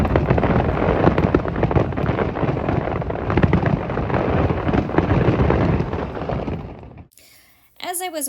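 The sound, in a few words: fireworks exploding at a night market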